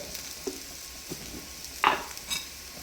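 Onions deep fry in oil for pasta, a soft bubbling sizzle punctuated by scraping stirs and one louder metallic clank of a utensil against the pan.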